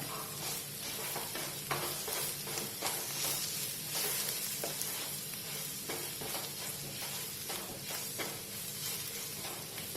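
Crushed chilli frying steadily in hot oil in a pan for a bitter gourd and jackfruit seed stir-fry, a continuous close sizzle with occasional sharper crackles and stirring scrapes throughout, no voices.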